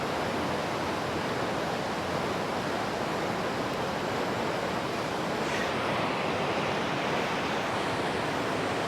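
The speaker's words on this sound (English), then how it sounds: "Look at that flow from the left as it slides down" Swollen Ping River floodwater in Chiang Mai during Storm Mulan rushes and pours with a constant broadband roar, steady and unbroken throughout, with no voices.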